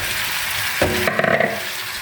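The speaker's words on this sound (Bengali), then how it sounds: "2 মিনিটের মতো ভাজবো চিংড়ি মাছটাকে" Shrimp fry in a hot pan with a loud, close hiss. The sizzle surges abruptly partway through, with a few brief clattering stirs before it settles back to a steady crackle.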